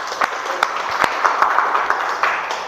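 A classroom audience claps steadily, with many overlapping hand claps and a few sharper individual claps standing out, no talking.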